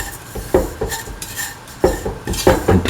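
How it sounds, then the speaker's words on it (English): A spoon stirs dates into semolina in a metal pan, giving irregular scraping and clinking strokes against the pan, close and fairly loud, with no talking. "mix the dates in the semolina together"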